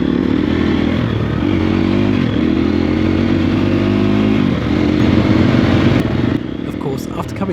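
A Triumph TF250-E enduro motorcycle runs loud and close on a steep wooded mountain trail, its engine droning at an uneven pitch as the throttle rises and falls, with rattles and scrapes near the end.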